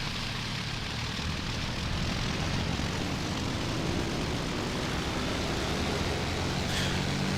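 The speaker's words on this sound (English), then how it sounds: "So right now my pilot should throttle up." Aircraft engine in a modded flight video game, a loud, steady propeller drone that fills the whole stretch without pause or break.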